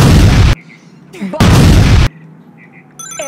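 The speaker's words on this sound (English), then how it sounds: "Bomb. Bomb. Bomb. Bomb." Two loud, booming bomb explosions from the video game Heroes Online World, each lasting about half a second, separated by quieter gaps with faint game sounds.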